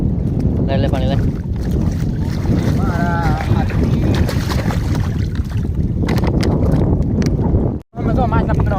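Strong wind on a river roars and buffets the microphone in heavy, continuous gusts, with water and boat noise underneath and people talking over it.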